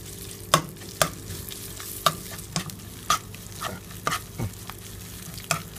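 Curry paste stir-fried in a hot pan, a constant sizzle broken by about ten sharp scraping stirs of a spatula at a roughly even pace, close up with no talk.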